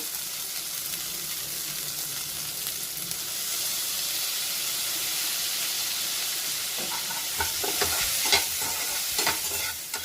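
Soy sauce sizzles and hisses steadily in a hot pan with chicken, being stirred, with brief crackling pops toward the end, no talking.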